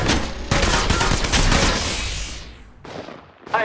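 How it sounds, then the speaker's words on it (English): Heavy automatic gunfire from enemies in the battle royale game Apex Legends Mobile, loud sustained bursts of rapid shots that fade out, followed by two shorter sharp volleys. "The enemies are shooting at me."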